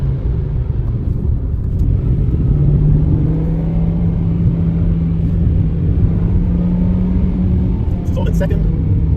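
Car driven along a road through a set of S-bends, engine droning and tyres rumbling loud and steady throughout with a held engine tone, while someone talks over it.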